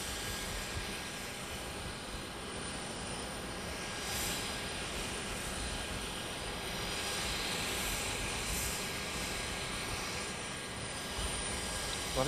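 Charter plane taking off from a runway, heard as a steady, fairly loud broadband jet engine roar that holds constant throughout with a slight swell midway, no talk.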